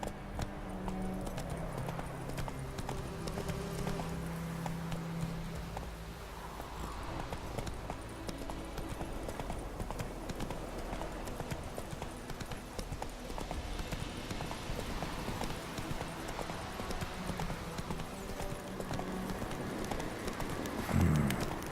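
The horse Roach galloping in The Witcher 3, hooves pounding in a fast, steady clip-clop rhythm that carries on throughout, close and fairly loud.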